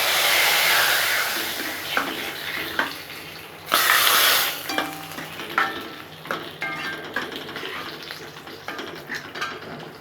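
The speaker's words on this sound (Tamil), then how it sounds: "இப்போ தாளிப்பை உள்ளே சேர்த்துட்றேன்." Hot tempering is poured into snake gourd kootu with a loud hiss that crackles and sizzles, rising in a sharp burst and then settling into scattered pops and gentle stirring sounds.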